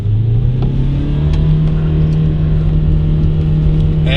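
Diesel engine being warmed up, running close and loud with a steady hum and a rising rev near the start, and no talk.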